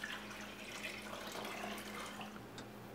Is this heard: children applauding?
no